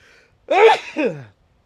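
A single sharp sneeze bursts out during a casual conversation, a quick two-part explosive burst with a brief gasp before it, close and fairly loud, followed by silence.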